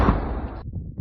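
Explosion of a gas pipeline near Moscow, a loud, dense boom rumbling for about half a second, then cutting to quieter low thuds and crackles.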